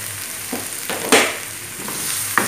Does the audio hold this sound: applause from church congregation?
no